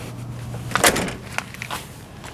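A 1984 Cadillac Eldorado Biarritz door with worn-out hinge bushings swings shut with a single solid thud, followed by faint rattles, heard close up.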